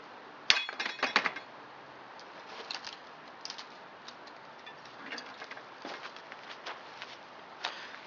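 Blackhawk XSF punch dagger blade scraping across glass, a series of sharp clinks and ticks, loudest at the start, then lighter scratchy taps continuing at close range.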